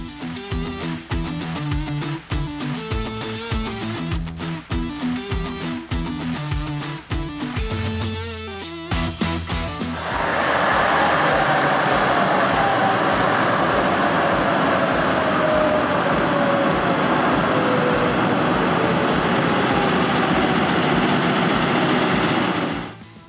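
Diesel tractor engine running with rhythmic knocking, then revving up to a loud, sustained roar under heavy dynamometer braking load that holds steady before cutting off.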